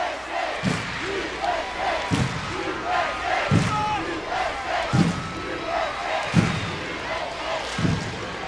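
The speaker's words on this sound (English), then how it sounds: "They are being given a rousing send-off here." A stadium crowd in Hartford gives a rousing send-off to the US women's national soccer team after a match against Mexico, a continuous roar of cheering broken by regular deep thumps, with an announcer's voice over the noise.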